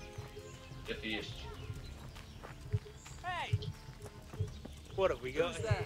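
Rhythmic clip-clop of horse hooves in the video game Kingdom Come: Deliverance, under voices talking and a short whinny-like sound, with game-like background noise throughout.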